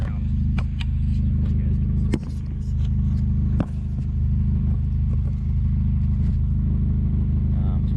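A third-generation Honda engine rumbles low and steady through a loud 2.5-inch stainless steel exhaust, holding a deep drone with a couple of sharp knocks along the way.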